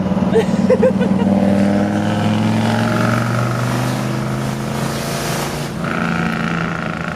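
A boosted Chevrolet C10 with an LS engine swap pulls at light part throttle, a loud, steady engine drone with a rising tone and no talk over it.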